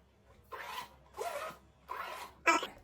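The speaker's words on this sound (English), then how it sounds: "it's unzipping just fine and zipping" Zipper on a Rough & Tumble Large Tyler leather bag in Selkie being pulled open and shut, three smooth raspy strokes followed by a short sharper pull, close and fairly quiet.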